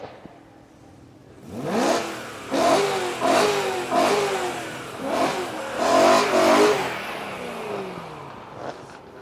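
A Volkswagen Golf engine is revved repeatedly at a car meet, about six rising bursts of throttle climbing and falling in quick succession, close and fairly loud, with idle between and no talk.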